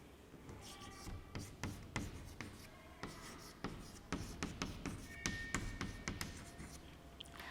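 A pen scratches out the definition of scattering of light in a long run of quick, rhythmic strokes. The writing is quiet and close, with faint speech in the background.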